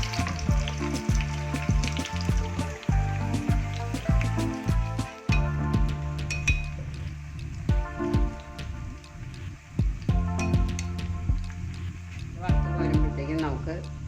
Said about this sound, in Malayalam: നമുക്ക് വറുത്തെടുക്കാം.